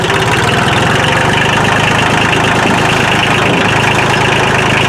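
A vehicle engine labours steadily in low gear while rolling down a muddy hill with the wheels locked, giving a continuous close rumble and rough idle-like drone with no talk over it.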